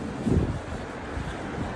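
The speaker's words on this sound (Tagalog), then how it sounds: "Ang laki ng alon." Big sea waves roll and wash near the recorder, a loud churning surge under heavy wind buffeting on the microphone. A brief swell comes early, and no one speaks.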